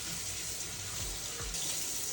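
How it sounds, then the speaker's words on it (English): Tap water runs steadily into a sink while hands are rinsed under it during oxtail preparation, a continuous close splashing hiss with small shifts as the hands move through the stream. "Now I'm gonna rinse my hands off real quick"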